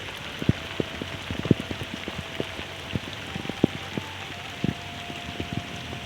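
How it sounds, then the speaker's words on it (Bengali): Heavy rain falls steadily on a village home, a dense hiss with scattered drips and louder drops striking a nearby surface in irregular taps. "আজকে খুব বৃষ্টি এলো"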